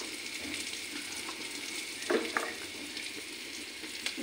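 Onions frying lightly in a pan for a big-fish kalia, a soft steady sizzle with a couple of brief stirring scrapes near the middle, fairly quiet and close.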